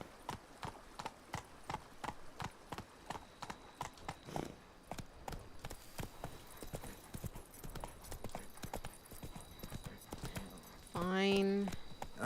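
Roach, a horse in the Witcher 3 game, trotting: steady clip-clop hoofbeats, close and rhythmic throughout, with a brief whinny near the end and game voices talking over it.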